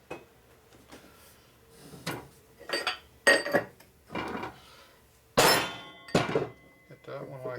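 Hammer blows ring out against the flywheel of a 1947 Harley-Davidson EL knucklehead 74ci engine as it is bent at its high spot. Sharp metallic impacts land irregularly, several close together, with a bright clanging ring and speech between them.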